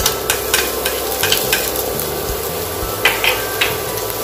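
Chopped garlic sizzling in hot oil in a pan, with a steady crackling fry and repeated scraping taps of a spoon stirring, close and fairly loud.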